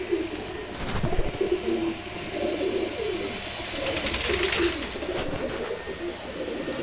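Pigeons coo low and steadily after a bath, mixed with a few clicks and a brief higher chirp, plus a faint mechanical rumble in the background.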